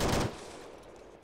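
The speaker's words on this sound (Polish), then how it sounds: "Jeszcze ktoś strzela tutaj." Gunfire in the military shooter Arma 3 during a co-op hostage operation: a loud, close burst of shots opens, then its echo trails away quietly.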